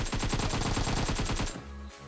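Automatic fire from a battle-royale shooter in a duo vs squad match: a rapid, evenly spaced string of loud close shots runs for about a second and a half, then cuts off into a low hum.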